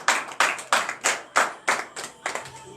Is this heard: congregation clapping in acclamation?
yes